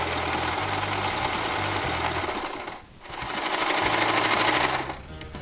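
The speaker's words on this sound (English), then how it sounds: "I'm going to sew that now, that to that, and I haven't pinned it" Sewing machine stitching fabric pieces for a hand puppet, a steady close mechanical whir of fast stitches that pauses briefly near the middle, then runs again before slowing at the end.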